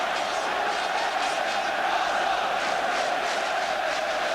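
Football crowd at a 1988 Arsenal v Tottenham Hotspur League Division 1 match, a steady distant roar of chanting and cheering sustained throughout.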